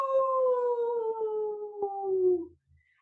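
A single drawn-out wolf-like howl from a voice imitating a wolf during a children's yoga session, loud and close, sliding slowly downward in pitch before trailing off.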